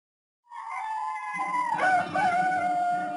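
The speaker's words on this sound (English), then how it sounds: "And then the sound of the crowing of a cock, the cock at the mission." A rooster crows at a distant mission near an Amazon hut, one long clear cock-a-doodle-doo rising and wavering, heard alone against silence.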